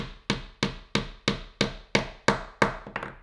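A hammer drives a nail into wood in a children's woodworking kit project, eight sharp, evenly spaced knocks about every third of a second, close and loud with no talk.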